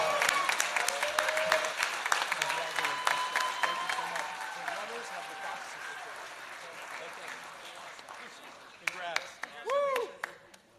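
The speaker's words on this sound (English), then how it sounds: "One last round of applause for our Gold and Silver Circle." An audience claps warmly at the Central Great Lakes Emmy Awards ceremony, honouring the Gold and Silver Circle. Sustained dense clapping mixes with voices and a few whoops, then thins out near the end.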